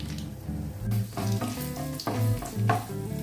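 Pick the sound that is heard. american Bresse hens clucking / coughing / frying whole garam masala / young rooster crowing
frying whole garam masala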